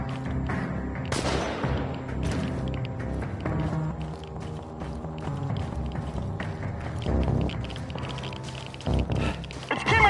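Gunfire in the video game Chernobylite, with repeated shots and impacts layered over a busy, continuous game soundscape at steady loudness.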